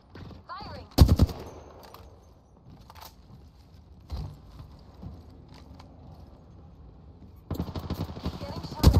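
Apex Legends gunfire in scattered bursts: a sharp volley early, a few isolated shots in the middle amid quieter game ambience, then a louder sustained burst near the end.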